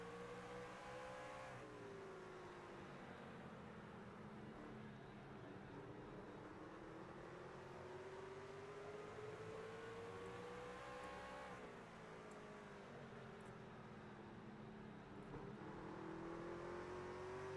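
A race truck engine drones and revs continuously, pitch rising and falling through gear changes, heard from on board with no pauses.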